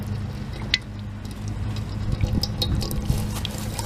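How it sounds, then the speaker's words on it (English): A hose sprays water to flush out a pressure washer that was submerged in salt water during Hurricane Helene flooding, giving a steady, close rush of splashing water with a low hum underneath. "I'm actually going to take a hose to it and flush it out."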